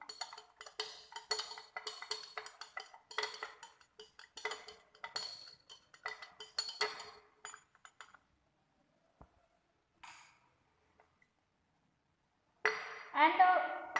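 A glass rod stirs benzoin tincture macerating in alcohol inside a glass vessel, giving a run of quick light clinks and scrapes for several seconds, then a few isolated taps, silence and a final burst of clinking.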